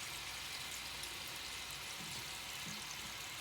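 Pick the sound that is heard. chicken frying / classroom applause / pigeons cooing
chicken frying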